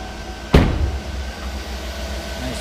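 The hood of a Chevrolet Tahoe pops open with a single sharp metallic thunk at close range, followed by a fading rattle and a quiet background hum.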